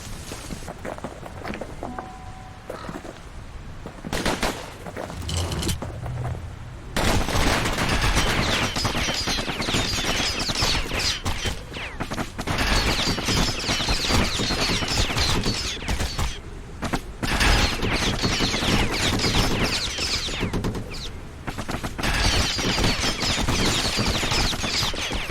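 Enemies fire repeatedly in the video game Bastion, sustained bursts of gunfire and mechanical clatter running loud and dense, with a quieter stretch at the start before the shooting swells and continues throughout.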